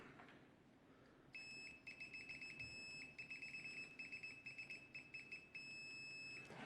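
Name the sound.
TES PROVA903 multimeter continuity test beep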